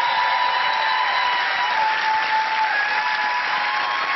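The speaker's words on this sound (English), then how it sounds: "Give him a round of applause," Studio audience applause on a game show, steady, dense clapping that holds at full strength with no voices.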